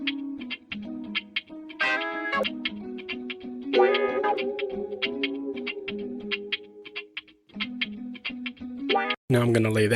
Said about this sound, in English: So when I play all the guitars together, it's going to sound like this.